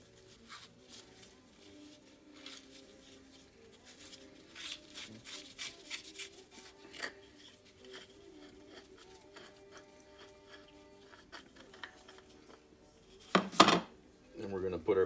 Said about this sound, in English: We're going to take our bearing packer